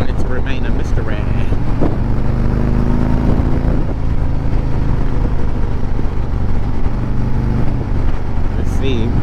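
A Harley-Davidson Road Glide motorcycle, a fresh build ridden for the first time, rumbles along under steady engine drone mixed with wind buffeting, loud and close, with a rider talking over it at times.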